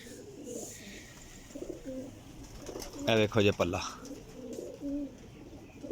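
Pigeons coo in short, throaty bursts around a loft, one loud close coo in the middle among fainter calls, while someone talks over them in Punjabi.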